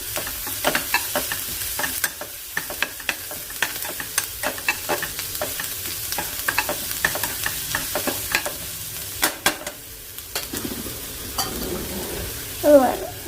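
Onions fry with salt in a pan, a soft steady sizzle broken by frequent scraping stirs of a spoon, close and continuous without talk.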